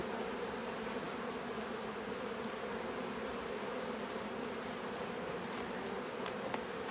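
Honey bees drone steadily around an open hive frame during late-July winter feed preparation, a dense continuous buzz filling the space at close range with no voices.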